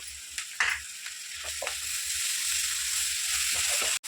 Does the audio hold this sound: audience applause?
no